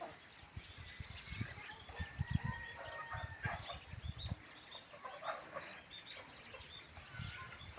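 Chickens cluck and mutter around a farmer's village yard in the evening, with faint crowing and other birds chirping behind, a steady low-level flock chatter throughout.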